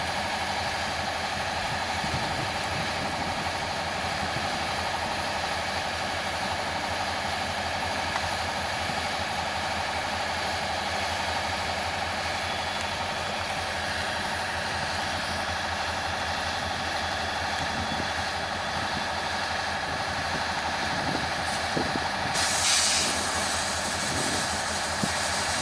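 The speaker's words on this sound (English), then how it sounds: "Here we have the Girard Local with Canadian National 5291 Solo bringing up a car with rails on it for the crane to switch around." Canadian National 5291, working the Girard Local alone in a rail yard, idles with a steady low diesel rumble and constant hiss, moderately distant, with a brief rise in noise near the end.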